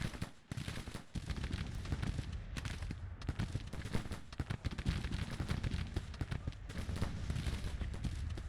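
Canister shot artillery in the Grand Tactician Civil War game, a relentless barrage of booming cannon blasts and crackling musketry layered together, loud and dense for the whole span.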